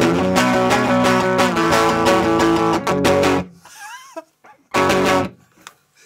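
Lo-fi electric guitar played through a JHS Colour Box preamp pedal, strummed chords ringing loud and dense for about three seconds, then breaking into a few sparse bent notes and short bursts with gaps of near-silence.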